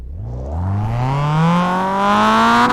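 A Mazda Miata in a racing video game revs up steadily through a single gear, its engine tone climbing smoothly and loudly over nearly three seconds, with no talk.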